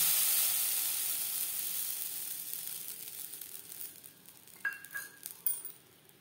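Rice batter for chitoi pitha hits a pan over a low flame and gives a bright sizzle that fades away steadily, followed near the end by a few light, close clinks.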